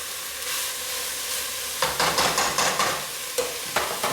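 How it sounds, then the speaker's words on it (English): Vegetables being stir-fried in a pan until soft and wilted, with a steady close sizzle and repeated bursts of scraping and tossing as they are pushed around. "I'm just going to keep stir frying them around"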